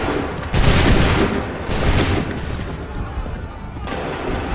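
A massed musket volley in the Assassin's Creed 3 video game, heard as loud overlapping booming blasts in quick succession, followed by rumbling echoes and crackling smoke-like noise that slowly fades.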